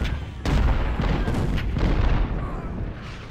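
Cannon artillery fire in the Union campaign of the Civil War strategy game Ultimate General: Civil War, a dense, continuous battle rumble with repeated booming shots layered over one another, loud and sustained throughout.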